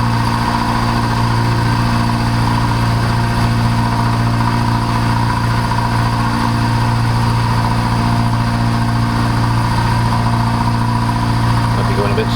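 A mini lathe takes a roughing cut with a new cutter, giving a steady, unbroken motor drone with a constant hum that holds at the same level for the whole stretch.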